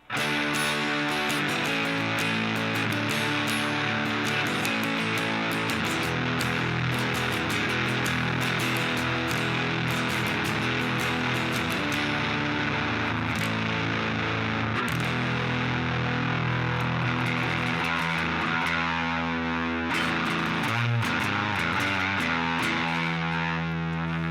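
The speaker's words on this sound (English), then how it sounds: "So very, very thick, very, very dense. Really more of a fuzz-like distortion to my mind." An electric guitar runs through a thick, dense, fuzz-like distortion pedal with the distortion set around noon, playing a sustained stretch of heavy saturated chords and notes, loud and alone with no talking.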